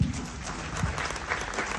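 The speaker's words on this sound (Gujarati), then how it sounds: "સુનિલ સોની, એમના માટે એક જોરદાર તાળીઓ." Audience applause for Sunil Soni at a Holi festival stage show, a steady wash of clapping from the crowd lasting the whole stretch with no voices over it.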